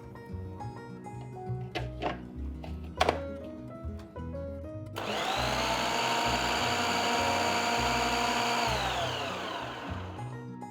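Food processor chopping cauliflower florets: a few knocks and clatters first, then a loud, steady whirring motor run for several seconds that winds down at the end, with no talking.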